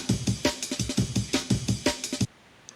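A fast, choppy drum break loop with crisp snare hits and busy hi-hats, played alone for about two seconds before cutting off abruptly.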